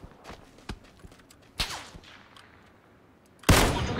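Sniper rifle shots in PUBG (Battlegrounds), a few sharp cracks spread across the moment, with a loud blast near the end, among light footstep-like game noise.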